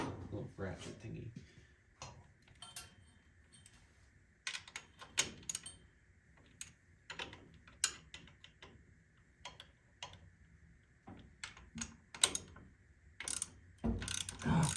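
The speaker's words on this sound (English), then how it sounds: "I'm gonna grab my little ratchet thingy." Ratchet wrench clicking on bolts of a 1924 Model T Touring during headlight wiring work, heard as scattered bursts of sharp ticks and clicks at close range, with a person talking in between.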